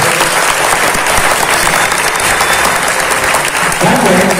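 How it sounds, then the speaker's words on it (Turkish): Loud, sustained applause from a large audience at a leadership camp event, a thick continuous roar of clapping close by that holds steady throughout. "Onlara çok ama çok güçlü alkışlıyorum."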